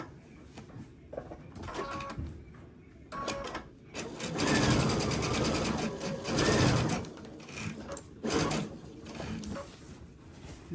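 A sewing machine stitching thick T-shirt quilt blocks, running in bursts of rapid mechanical whirring with short stops between seams, close and clear.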